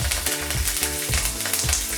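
Dried red chillies and curry leaves fry in hot oil, giving a close, continuous crackling sizzle with quick bursts of popping throughout.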